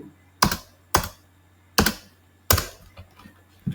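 Python code being typed on a computer keyboard: five sharp, distinct key clacks spaced irregularly about half a second to a second apart, close and clear against a faint background hum, with no speech.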